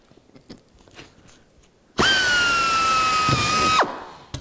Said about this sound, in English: Might have to use a little bit more drill.